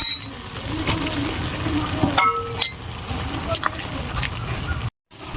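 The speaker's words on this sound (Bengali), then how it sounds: "ঝোল ফুটে গেছে, এখন আমি ভেজে রাখা মাছটা দিয়ে দেবো।" Fried small fish drop into a boiling curry broth with milk taro greens: bubbling sizzle, a few clinks of utensils against the pot and brief stirring, close by, with a short dropout near the end.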